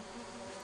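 A low, steady insect buzz of bees in the game Lethal Company, faint and continuous for a brief moment with no voices.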